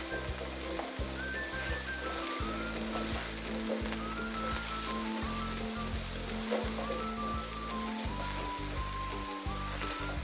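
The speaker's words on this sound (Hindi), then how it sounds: "प्याज भी बस 1 मिनट तक भूनेंगे।" Green chilies and onion frying briefly in oil in a pan for chana chaat, a steady close hiss of sizzling throughout with a continuous low hum beneath and no talking.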